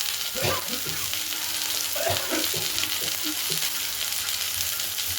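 Potato, cauliflower and onion stalks frying in a pan for a Bengali charchari, a steady close sizzle with scattered stirring scrapes and clinks running throughout.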